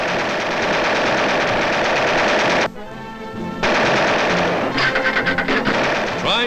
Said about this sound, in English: sharpshooters learn to use aerial machine guns, training their fire upon small discs hurled by a machine into the air